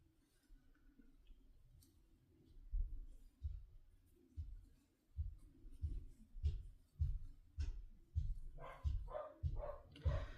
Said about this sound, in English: you're hearing my dog downstairs barking